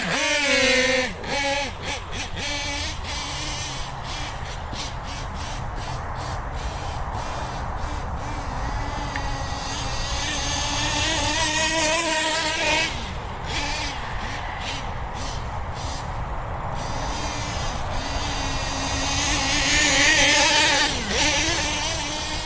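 An OFNA Titan Twin RC car's engine spools up near high throttle, a loud, continuous buzzing whine with rising and shifting pitch, broken by a few sharp fluttering bursts.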